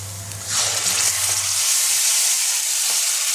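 Spice paste tipped into a pan of frying onions, a sudden loud sizzle that swells and holds as a steady bright crackling hiss, with a low hum fading beneath.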